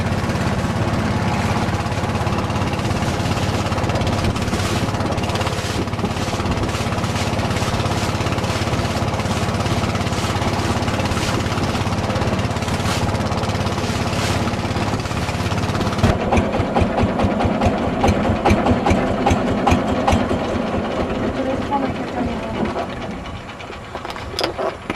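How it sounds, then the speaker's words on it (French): A bus diesel engine driving a local Burmese longtail pirogue through a long propeller shaft, a loud, rattling mechanical hammer with a fast even pulse, close and continuous, growing rougher and more uneven toward the end. "Nous utilisons les pirogues locales, équipées d'un moteur diesel d'autocar et d'une hélice fixée à l'extrémité d'un arbre de transmission de 3 mètres"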